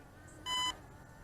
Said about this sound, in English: Oh, it is starting to beep.